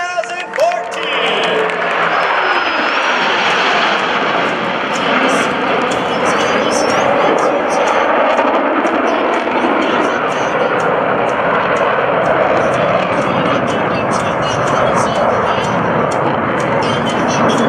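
US Navy Blue Angels jets fly over an Air National Guard open house airshow, with a loud, continuous roaring jet wash that sustains throughout, and crowd and a background announcer voice blended beneath it.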